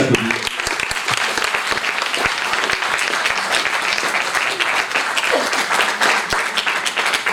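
Steady applause from an audience greeting a disabled marathon runner called up to a stage at a ceremony honouring local athletes, dense continuous clapping throughout with some murmur.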